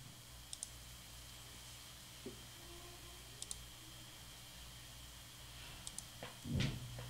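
A computer mouse clicks to import a file in the Vellum book-formatting software, a few faint, sharp clicks spaced seconds apart over a quiet background hum.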